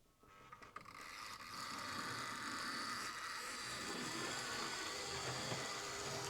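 Trix Class 52 model locomotive motor and gear train powered up on the bench, a steady close whirring grind with a fine ratcheting rattle that starts after a second and holds evenly.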